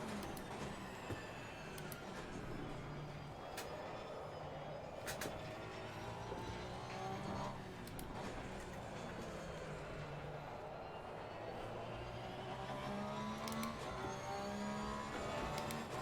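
Race car engine in the Assetto Corsa Competizione racing game, a quiet, continuous drone whose pitch slowly rises and falls, with faint thumps now and then.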